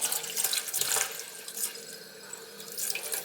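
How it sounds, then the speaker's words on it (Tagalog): Tap water runs steadily into a sink while longganisa sausage for barbecue is rinsed, a close splashing hiss with small surges as the food shifts under the stream, with no talking. "hugasan lang natin yan"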